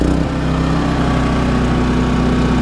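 A Champion 3100-watt inverter generator runs with a steady, continuous engine drone and low hum, loud and close, holding an even pitch throughout with no talking.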